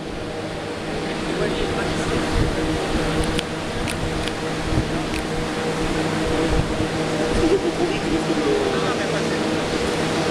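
Electric fans at a vintage radio-controlled sailboat event give a constant mechanical hum and steady whirring drone beneath occasional indistinct voices.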